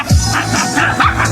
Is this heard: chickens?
no